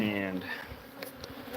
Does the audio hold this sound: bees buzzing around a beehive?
yes